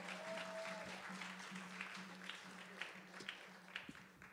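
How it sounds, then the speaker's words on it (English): Scattered outdoor audience applause at a Haitian Flag Day celebration at Brooklyn Borough Hall, faint and distant claps that build slightly toward the end over a steady low hum and background murmur. "Come on, clap your hands for her now."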